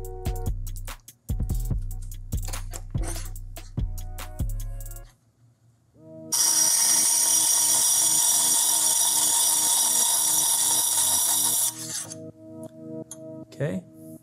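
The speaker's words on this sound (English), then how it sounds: "I use the 180 grit gator wheel and start to rough grind this graver" An 80-degree graver is rough ground on a 180 grit wheel, a steady loud bright grinding whine lasting several seconds, preceded by sharp clinks of handling the tool and followed by quieter scraping.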